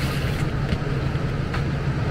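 An HVAC blower motor runs steadily, pushing air through a system fitted with an undersized filter. It makes a constant low hum with a broadband airy rush, even and unbroken throughout, with no talk.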